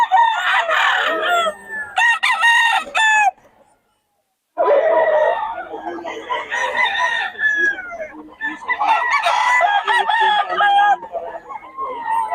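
Roosters crow repeatedly with loud, drawn-out calls over a steady background of clucking chickens, broken by a brief quiet gap midway.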